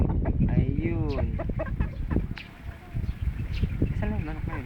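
Chickens cluck and squawk up close in short, repeated bursts, mixed with people talking nearby.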